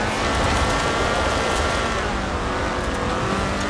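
The Ford RS 1800 rally car in the Forza Horizon 4 video game holds a steady, loud engine roar at high revs, close up and unbroken, with no talking.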